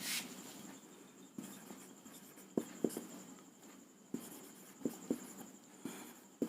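Handwriting on paper, soft scratching pen strokes broken by sharper taps and pauses, close and quiet, with no one speaking.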